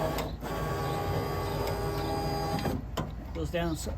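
An electric power window motor in a Chevrolet El Camino door runs steadily for about two and a half seconds with a whirring hum. It stops with a brief clunk, and a voice talks just afterward.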